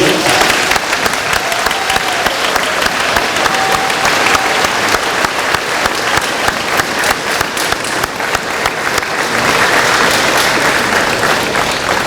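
A standing ovation at a technical center awards ceremony for seniors' parents and families, loud sustained clapping from a large crowd filling the room for about twelve seconds.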